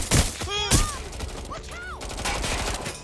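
Video game gunfire in Watch Dogs Legion: several loud close shots in quick succession at the start, mixed with whooshing effects and tonal game sounds, then a steady background rumble.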